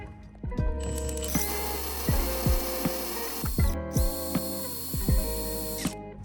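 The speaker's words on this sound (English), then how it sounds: "drill in the other hole for the other side for the other support rod" A power drill bores a hole for a support rod while a Vicrez VZ style front bumper splitter is fitted to a Dodge Challenger, heard as several short whirring bursts and ratcheting clicks up close, with brief pauses between.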